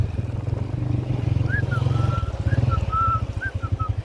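Several motorbikes, a group of four or five, pull away together from near a cattle market, their engines throbbing in a steady low pulsing rumble with some faint higher tones over it.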